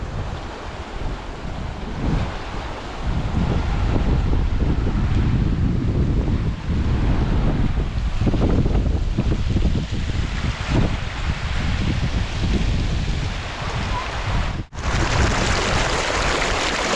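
Loud, constant rushing water of the fast-flowing Tropic Ditch stream in Bryce Canyon, with a broad roar, heavy and close, and occasional gusts of wind across the microphone.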